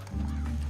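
Horse hooves and a horse sound in the video game Red Dead Redemption 2, a short steady low rumble of movement with a voice speaking over it.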